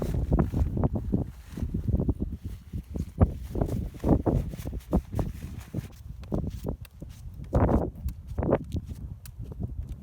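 Gusty wind with rain buffets the microphone in uneven, rumbling surges on a walking pilgrimage route, loud and close, with no voices.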